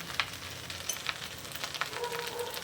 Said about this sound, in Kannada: ಈಗ ನೋಡಿ ಬೆಂಡೆಕಾಯಿ ಚೆನ್ನಾಗಿ ಹುಡ್ಕೋತೀನಿ ನಾನು